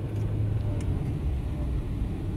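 A car accelerating in third gear during a driving lesson, a low, steady engine rumble with road noise from inside the cabin, constant in level for a couple of seconds.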